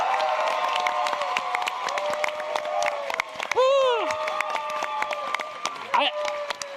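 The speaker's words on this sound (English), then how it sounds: "Audience, if you enjoyed Sonic X Shadow Generations Dark Beginnings, could you please cheer for Alan over here?" Anime Expo panel audience at a Sonic X Shadow Generations animation session cheering and clapping in a large hall, a steady crowd roar with whoops and a voice rising over it midway.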